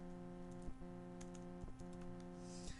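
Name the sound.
typing a search on a computer keyboard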